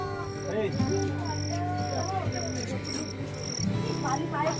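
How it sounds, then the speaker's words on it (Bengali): Crickets chirp in repeated short pulses around an evening tent campsite, faint and steady beneath a person talking close by. "আর বেশ একটা ঝিঝি পোকার ডাক"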